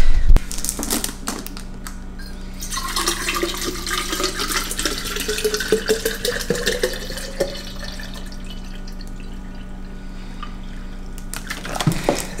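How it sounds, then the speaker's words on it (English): Tap water runs into a water bottle at a kitchen sink, a steady splashing stream whose pitch rises as the bottle fills, with clicks at the start and end. "I need to fill up my water bottle"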